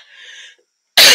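A single sharp, loud cough bursts out at the end, just after a softer breathy sound. It is close and abrupt, with no speech around it.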